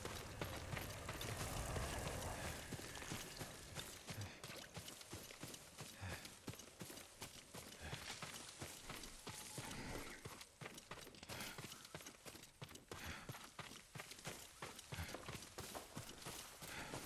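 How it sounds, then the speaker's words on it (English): A horse's hoofbeats clatter without pause in the video game Ghost of Tsushima, a dense, fairly loud trotting rhythm heard alone, with no voices. "Yuriko's horse. She can't be far."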